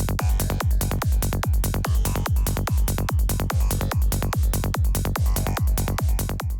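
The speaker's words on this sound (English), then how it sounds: "Let's just hear with some kick and bass now." A punchy psytrance kick and rolling bass made with Vital synth presets pulse in a fast, even, driving rhythm, each thump followed by quick bass notes, loud and continuous with no voices.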